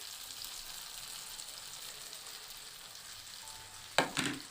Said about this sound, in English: Add your grated garlic, as I did.